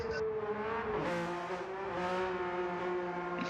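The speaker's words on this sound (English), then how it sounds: "Hearing that Porsche's engine sing" A Porsche race car engine in Gran Turismo 7 at the Nürburgring sings at high revs, a steady tonal whine rising and falling with gear changes as the car accelerates, alone and fairly close.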